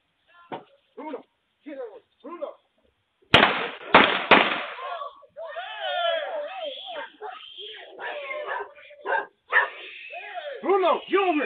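A dog barks in short bursts, then sharp gunshot cracks ring out, followed by a person shouting over more barking and yelping.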